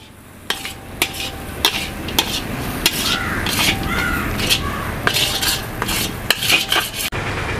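A spoon stirs potato and onion kachori filling mixed with lemon juice, with repeated sharp clinks and scrapes against the bowl over a soft, wet mixing rustle.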